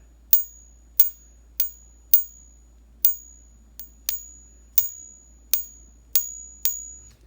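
A small counterfeit silver coin struck about a dozen times at an uneven pace, each hit giving a bright, thin ring that fades quickly; no talking.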